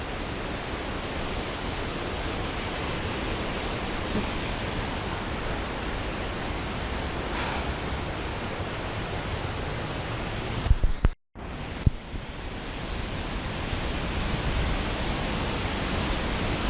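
A waterfall pours in a steady, loud broadband roar, a constant rushing wash of falling water heard close by, with a brief dropout partway through before the roar resumes unchanged.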